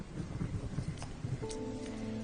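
Rain pours steadily, with a low rumble of thunder and a faint tonal hum toward the end.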